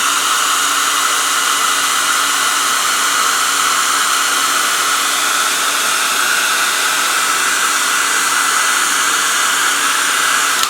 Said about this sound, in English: I apply a thin coat and then I immediately dry it off, so that I can apply another coat on top of that.